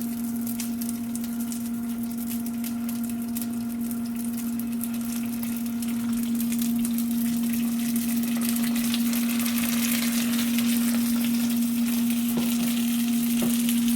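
Spring rolls fry in hot oil in a pan, a steady, close sizzle and crackle that goes on throughout beneath a constant low hum, and no one speaks.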